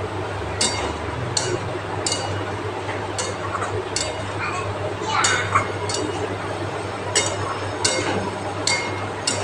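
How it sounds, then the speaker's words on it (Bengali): Chopped tomatoes being cooked down with spices in a pan for a feast-style potato and cauliflower curry, a spoon clinking against the pan every second or so over a steady low hum and background murmur. "এবার টমেটোটাকে আমি ভালো করে কষিয়ে নিচ্ছি মশলার সাথে"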